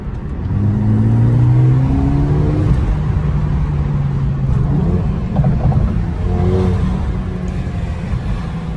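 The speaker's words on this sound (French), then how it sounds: "si vous avez envie de doubler sur l'autoroute, si vous avez envie de vous sortir d'une situation compliquée sur la route, vous avez juste à appuyer sur l'accélérateur, elle répond tout de suite" A Mercedes A35 AMG accelerates hard, its engine rising in a steady droning pull that holds loud for several seconds, then eases and climbs again, heard from inside the car with no talking.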